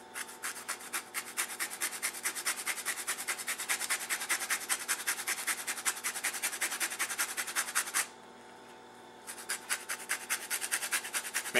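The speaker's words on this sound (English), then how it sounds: "So I would start off just getting the zest off the orange, which is just grating the peel." An orange peel being grated for zest, a rapid, even rasping scrape repeated in quick strokes close up, pausing for about a second before resuming.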